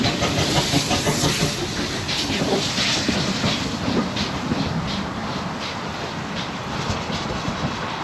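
A steam locomotive on a heritage railway runs around its train beside a depot, giving a continuous rumbling, hissing roll with faint rhythmic clatter that holds steady throughout.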